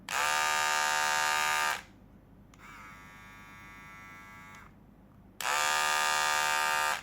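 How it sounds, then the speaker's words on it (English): A high-pitched electric trimmer buzzes loudly, stops, a quieter, lower-pitched Philips 7000 Series MG7920/15 trimmer hums for a couple of seconds, then the loud buzz of an older Philips trimmer returns. "this is the sound from my old Philips trimmer."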